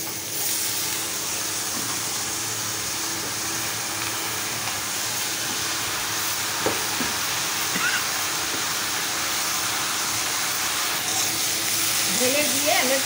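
Bashpata fish mixture, oiled with pickle oil, sizzling steadily in a kadai as a broad, even hiss runs throughout, with faint clinks and stirring sounds near the end.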